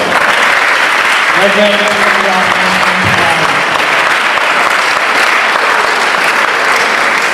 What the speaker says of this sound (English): Shall we welcome with a round of applause?